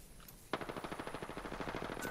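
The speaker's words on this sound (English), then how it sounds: "R99 here. Good recoil, but it empties fast." R99 submachine gun fire in Apex Legends: a single rapid burst of evenly spaced shots, close and crisp, starting abruptly after near silence and running to the end.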